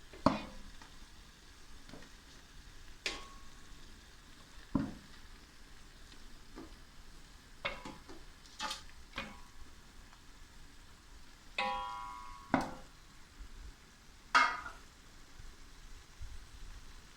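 Large meaty bones frying in a spiced masala in a pot: a faint, low sizzle underneath, broken by intermittent scraping and clattering stirs spaced a second or two apart, nearby and otherwise quiet.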